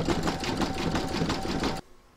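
Embroidery machine stitching a large reindeer applique, a steady rapid whirring chatter of needle strokes near and loud, then stopping abruptly to near silence.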